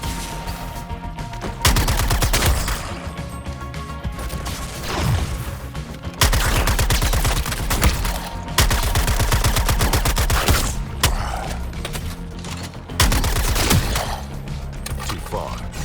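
Gunfire in the Suicide Squad: Kill the Justice League video game on PS5, loud repeated bursts of rapid automatic shots separated by short pauses, with booming impacts mixed in.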